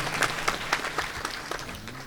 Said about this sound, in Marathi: एकदा टाळ्या वाजवा त्यांच्या नावाने.